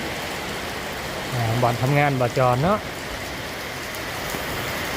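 Steady rain falls with a constant, even hiss throughout, while someone speaks briefly over it in the middle.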